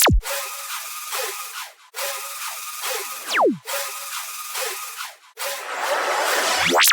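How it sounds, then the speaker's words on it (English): Background sound-effect samples for a song drop play alone: several repeated noisy swooshing bursts, each ending in a falling pitch sweep, in a regular rhythm and then a final rising noise swell. "This is what the effects are sounding like on their own."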